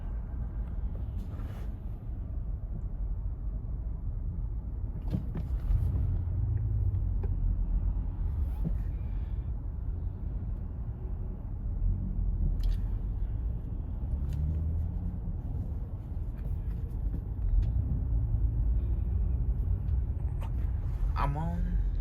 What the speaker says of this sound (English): I'm not sure what's causing all this traffic.